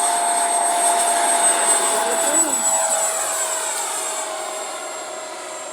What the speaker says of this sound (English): You have a plane, look at it.